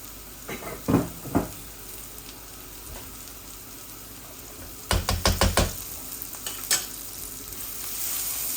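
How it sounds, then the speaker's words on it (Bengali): Two dried chilies and cumin seeds fry in a little oil and ghee, a steady low sizzle broken by clusters of sharp utensil taps and stirring knocks, close and unaccompanied by speech. "অল্প তেল দিয়েছি, অল্প একটু ঘিও দিয়েছি। এই দেখুন, দুইটা শুকনা মরিচ ভাজার সময় দিছি, আর একটু জিরা দিছি।"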